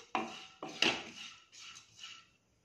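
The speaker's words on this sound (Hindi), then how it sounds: "इसमें थोड़ा सा ब्राउन कलर आने तक अपनी दाल को हम चलाते हुए पकाएंगे।" Moong dal being stirred and roasted in a pan, a few soft scraping and clinking strokes of a spoon against metal, faint and close, with no talking.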